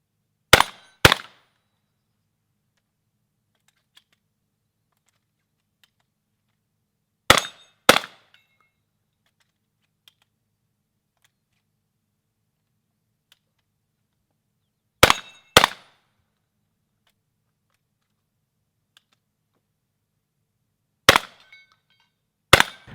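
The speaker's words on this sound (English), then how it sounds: "Let's get shooting." Pistol shots fired in a practical shooting course at steel plates and a Texas star, coming in four well-spaced bursts of two or three sharp, loud cracks each, with near silence between bursts.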